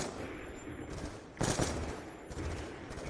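Bursts of automatic gunfire in Call of Duty Black Ops 2 Zombies, with a loud sharp volley in the middle standing out from a steady background of game noise.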